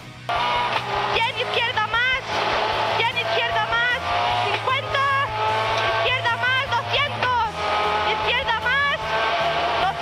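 Inside a rally car on a rally sprint stage in Mallorca, the engine revs hard through gear changes with rising and falling whines and tire noise, loud and continuous, under a voice speaking.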